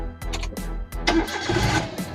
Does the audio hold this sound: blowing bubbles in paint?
no